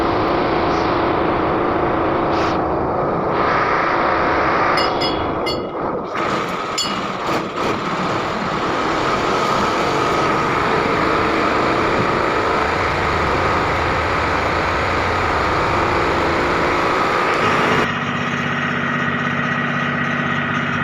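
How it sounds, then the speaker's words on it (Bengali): Two-cylinder engine powering a passenger launch on a trip from Khulna, a loud continuous mechanical drone with a steady throb, near and constant, with some brief clattering ticks early on and no talk. "এই মেশিনটা সম্ভবত দুই সিলিন্ডারের এই মেশিন সম্পূর্ণ লঞ্চটাকে চালানোর জন্য"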